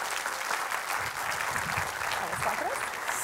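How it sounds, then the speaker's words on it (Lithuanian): Studio audience applause on a Lithuanian television talk show, dense and sustained clapping from a crowd, fairly close, with a voice briefly heard over it. "Viktorija Čmilytė Nilsen, pasitikime plojimais."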